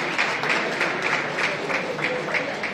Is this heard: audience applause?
yes